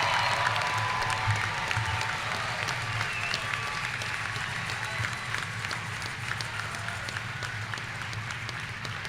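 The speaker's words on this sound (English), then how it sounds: "One more big round of applause and a big cheer for everyone." A graduation ceremony crowd claps and cheers in a large hall, a loud continuous roar of applause with scattered shouts that slowly fades over about nine seconds, a low hum underneath.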